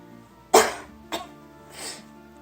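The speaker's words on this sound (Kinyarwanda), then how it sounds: "warwaye inkorora warwaye iki?" A person coughs close by: one sharp, loud cough, then a shorter second one, followed by a softer, breathy third.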